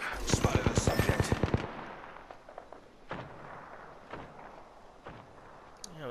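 Rapid burst of light machine gun fire in Apex Legends, a dozen sharp evenly spaced shots in the first second and a half, followed by scattered fainter distant gunfire and impacts.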